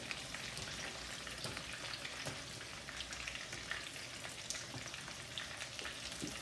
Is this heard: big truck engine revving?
no